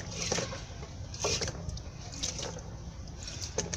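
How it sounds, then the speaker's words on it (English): A hand rinsed in a bowl of water while cooking water fufu, with soft repeated splashes and swishes close by. A faint background hum runs underneath. "I'm just going to rinse my hand into it"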